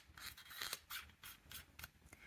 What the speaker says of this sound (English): you can hear when capping and uncapping this pen, it sounds like the metal of the body and the metal of the cap actually touch each other